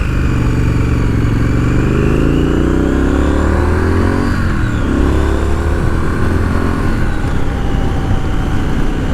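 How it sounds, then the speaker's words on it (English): A 2020 Triumph Street Scrambler motorcycle engine roars loudly and continuously, its pitch rising and falling as it revs up, with no voices. "Got to rev this motor a little bit to get serious power."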